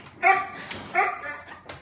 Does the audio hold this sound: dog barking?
yes